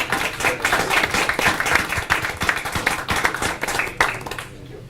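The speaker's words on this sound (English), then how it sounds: "Let's give them a big round of applause, please" A big round of applause from an audience at a city council meeting in Brawley, steady dense clapping for nearly five seconds that fades out at the end, with no talking over it.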